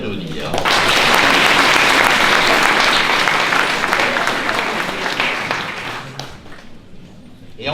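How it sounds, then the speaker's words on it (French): Audience applause at a medal ceremony for local champions in Penne d'Agenais, a dense, steady burst of many clapping hands that swells at once, holds loud, then thins and tapers near the end. "Vous pouvez l'applaudir."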